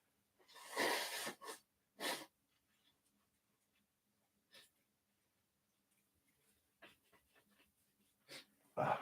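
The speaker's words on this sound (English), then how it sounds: "I need to blow my nose." A person with congested sinuses blows their nose, giving a few loud, close bursts of nasal blowing followed by quieter sniffs and breaths in an otherwise quiet room.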